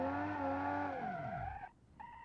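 Car tires skid and squeal while drifting in BeamNG.drive, a loud sustained engine-and-tire screech whose pitch sweeps downward as the car slows, then cuts out briefly before a fainter tone resumes.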